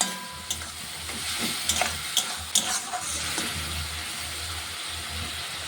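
Radish greens with salt and turmeric are stirred in a frying pan: a continuous close sizzle with sharp scraping clicks from the spatula at irregular intervals, and no talking.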